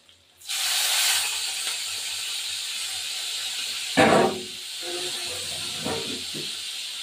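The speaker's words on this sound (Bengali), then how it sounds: "এই তেলের মধ্যে চিংড়ি মাছটা দিয়ে দেবো" Prawns dropped into hot oil burst into a loud, sudden hiss that settles into a steady close sizzle, broken later by a few sharp scrapes and stirs in the pan.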